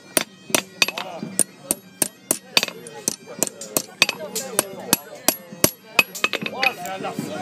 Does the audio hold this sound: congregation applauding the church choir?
no